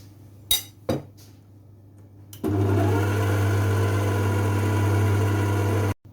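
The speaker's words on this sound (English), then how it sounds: "I'm going to gradually add it to the mixer and then mix this in slowly" An electric mixer whirs steadily through fruit cake batter after a few sharp clinks of ingredients going into the bowl, its motor hum loud and constant for several seconds before cutting off.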